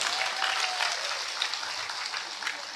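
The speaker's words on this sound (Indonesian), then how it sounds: "Tepuk tangan untuk anda." Audience applause at a live outdoor religious gathering in Kebonsari, Probolinggo, a steady crowd of clapping hands held for a few seconds, moderately distant with no talk over it.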